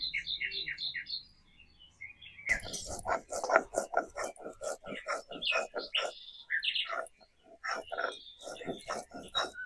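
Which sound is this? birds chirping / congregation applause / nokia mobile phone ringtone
birds chirping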